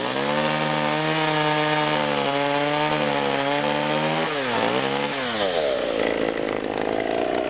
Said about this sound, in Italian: Apriamo con la motosega portando a vivo il tessuto vegetale esistente.